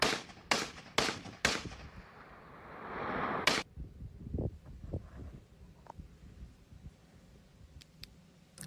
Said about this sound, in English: Somebody is shooting at that thing from the ground.